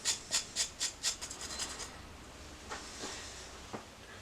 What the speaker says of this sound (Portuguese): Ralar dentro 2 dentes de alho